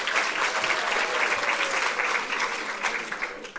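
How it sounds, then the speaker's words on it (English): An audience at an International Mother Language Day celebration applauds a performer, steady sustained clapping from a crowd throughout, with no talking over it. "Can I please request you to give her a round of applause?"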